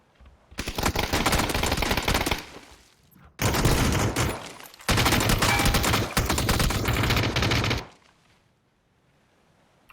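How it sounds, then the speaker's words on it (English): M249 machine gun fire in the PC battle-royale game PUBG during an esports scrim: loud, dense sustained automatic bursts, three long volleys separated by brief pauses, close and dominant with no talking. "This is what happens when you put M249 in the map."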